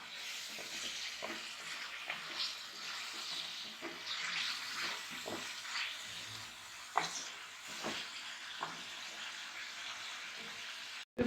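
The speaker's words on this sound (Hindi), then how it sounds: "थोड़ा सा इसके अंदर पानी डालेंगे, ये मसाला मैश हो रहा है अच्छी तरह।" Water poured into masala sizzling in a frying pan while chicken is being cooked for a mooli palak bhujia, a steady hissing splash with scattered crackles and soft utensil taps, close up and alone.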